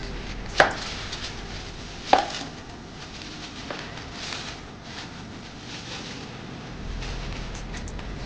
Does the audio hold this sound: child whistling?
no